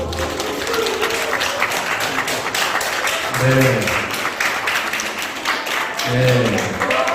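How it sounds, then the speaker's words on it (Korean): A church congregation claps during a Sunday worship service, a steady wash of applause that lasts throughout, with people talking over it. "박수 한번 보내주세요"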